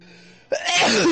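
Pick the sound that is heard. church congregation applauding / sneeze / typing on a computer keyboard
sneeze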